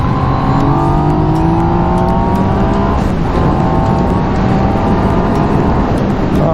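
Yamaha MT-09 SP motorcycle engine, loud and close, holding a steady drone that rises in pitch over several seconds, with a brief dip before climbing again.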